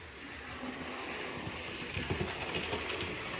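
A model railway train runs past on the layout, a steady rolling rumble with light rhythmic clicking of wheels on track, close and continuous, growing a little busier toward the end.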